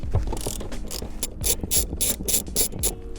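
A ratchet clicks close up in repeated quick bursts while a bolt holding a car seat is backed out, the sharp pawl clatter strokes coming in a steady rhythm with brief pauses between them.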